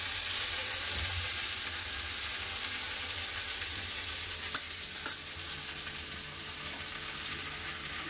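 Cut okra fries in hot mustard oil with salt and turmeric, giving an even, close sizzle throughout with two quick sharp clicks partway through.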